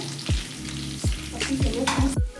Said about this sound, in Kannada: ಇವಾಗ ಕರಿಬೇವು ಹಾಕೋತಾ ಇದ್ದೀನಿ